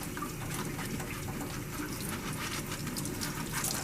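Running tap water pours steadily over a dental instrument brush being rinsed during decontamination, a continuous close broadband splash with no pauses.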